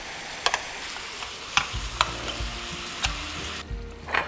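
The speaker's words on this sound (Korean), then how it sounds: "약불에서 끼얹어가면서 소스와 떡을 졸여주시면 됩니다." Soy-glazed rice cakes simmering over low heat in a pan, a soft continuous sizzle broken by a few sharp clicks and scrapes as sauce is spooned over, close and alone.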